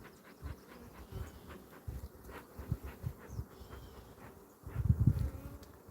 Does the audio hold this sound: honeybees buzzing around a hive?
yes